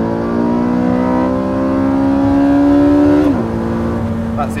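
A Porsche 918 Spyder pulls hard at full throttle in hybrid mode, its engine note climbing steadily and loudly before a brief dip at a gear change, then carrying on strong and close.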